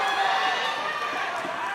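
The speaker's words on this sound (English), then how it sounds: "The crowd loves it as well" Crowd at an MMA fight, a steady roar of cheering spread across the hall, running continuously for the whole stretch with commentators talking over it.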